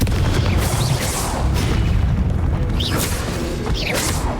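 Confringo blasting curse in Hogwarts Legacy on the Switch, a steady loud booming roar of fiery blasts with crackling bursts and swooshing spell effects layered throughout, dense and close.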